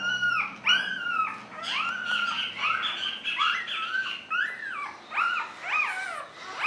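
A dog whines and whimpers close by in a string of high, rising and falling cries with short pauses between them, with a rough edge at times and no talking.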